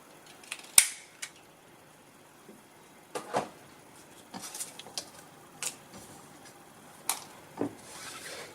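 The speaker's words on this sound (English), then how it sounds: "I'm just going to round off the corners on here" Sharp scissor snips round off the corners of a watercolour card tag: scattered, crisp cuts with short pauses between them, close and fairly quiet.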